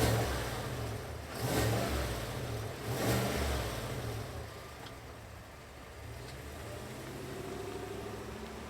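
The 6.2-liter V8 of a 2023 GMC Yukon Denali Ultimate, fitted with a staggered-tip exhaust, blips through two short revs, then settles into a steady, rumbling idle, heard close from outside with no talking.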